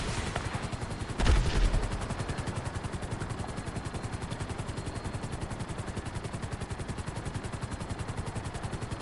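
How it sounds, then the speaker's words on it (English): Helicopter in GTA V Online during the solo Cayo Perico heist: steady, rapid rotor chopping throughout, close and loud, with a brief louder burst near the start. "Now you can hear the helicopter starting to give."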